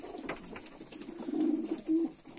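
Soft, low pigeon coos rising and falling, a couple of longer throaty calls near the end, close by inside a pigeon loft.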